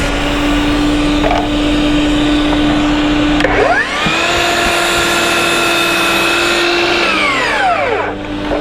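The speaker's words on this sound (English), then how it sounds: "Test out this new dust extractor." Dewalt 60 volt Flexvolt dust extractor running loud and steady close by, its motor whine holding a constant pitch with a surge and drop partway through, no talk.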